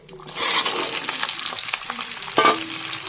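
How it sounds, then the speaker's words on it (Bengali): Vegetables sizzle and fry steadily in hot oil in a wok after a dried red chilli tempering, with occasional stirring scrapes, close and loud and without talk. "সবজিগুলোকে আমি সুন্দর করে ভেজে নেব।"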